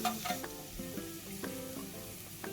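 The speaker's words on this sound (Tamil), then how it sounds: "கடலைப்பருப்பு, வேர்க்கடலை பொரிஞ்சதும் ஆனியன் ஆட் பண்ணிக்கலாம்." Onion sizzling in hot oil with fried peanuts and chana dal for semiya upma, a steady close crackle with a few soft stirring scrapes and no talking.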